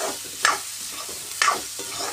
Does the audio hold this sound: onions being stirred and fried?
yes